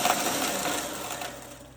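Food processor or blender pulsing ingredients into a crust, a short whirring burst of motor noise that gradually fades, heard alone.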